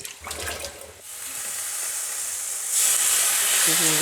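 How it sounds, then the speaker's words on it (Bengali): Water poured onto dry jaggery in a pan, a steady rushing hiss that starts faintly, swells into a continuous loud pour and sizzle, with a brief voice near the end. "আমি সামান্য একটু জল দিয়ে দেবো"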